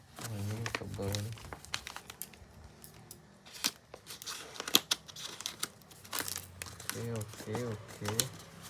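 Plastic packaging around a tote-bag book bundle crinkles and rustles in short close bursts during unboxing, with a person talking quietly in between.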